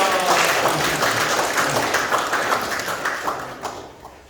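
An audience at a logistics center opening ceremony in Daegu breaks into applause for a company representative, a dense wash of clapping that holds steady and then thins and fades toward the end.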